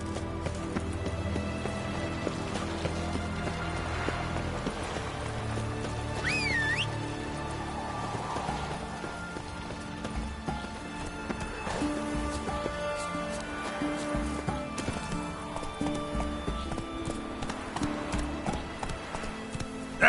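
Roach the horse gallops through The Witcher 3 game world, a steady run of hoof clip-clops mixed with background music and ambient game sound, with a brief whinny-like cry partway through.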